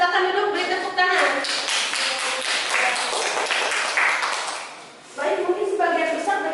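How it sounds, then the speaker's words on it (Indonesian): Classroom students clap for a classmate during a microteaching lesson, a brisk burst of hand claps under a teacher's voice, pausing briefly before the speaking resumes. "beri tepuk tangan"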